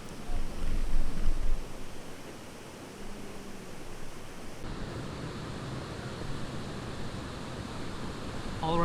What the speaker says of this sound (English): Next to the waterfall,